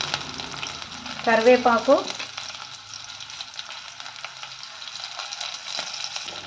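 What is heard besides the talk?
green chillies frying in oil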